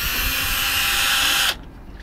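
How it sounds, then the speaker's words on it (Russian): A cordless screwdriver whirs loudly and steadily at close range while backing out screws from a boat autopilot unit, then cuts off abruptly, leaving a quieter room. "Дальше мы берем шуруповерт и, соответственно,"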